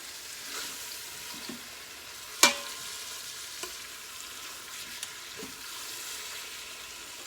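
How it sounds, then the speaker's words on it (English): A soft, steady sizzle of Boston butt pork searing in a pan, with occasional clinks and a sharp utensil knock. "I'm sure that you can hear that meat searing"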